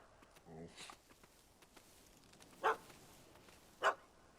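A dog in The Witcher 3 gives two short, faint barks a second apart over a quiet game background, with a soft murmur near the start.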